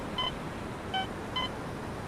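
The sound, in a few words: metal detector beeping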